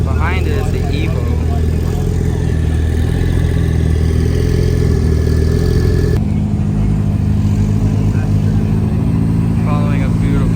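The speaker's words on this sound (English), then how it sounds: "911 turbo. Sounding real good." Porsche 911 Turbo engine at a local car meet, a loud, low, steady rumble with a shift partway through, while people talk over it nearby.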